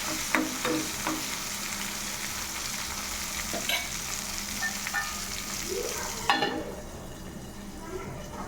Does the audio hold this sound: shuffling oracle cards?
no